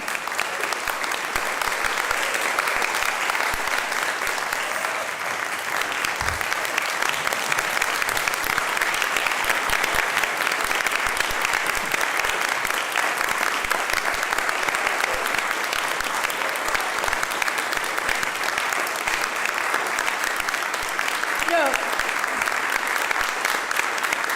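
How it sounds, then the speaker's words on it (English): Sustained audience applause at a Unitarian church service honouring a departing music director, a dense, even wash of many hands clapping for over twenty seconds without a break. "we'll just applaud like that"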